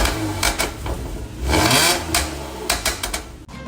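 A 2003 Infiniti G35 Coupe engine revs in several sharp bursts, its rough, raspy worn exhaust roaring up and dropping back between blips, close and loud.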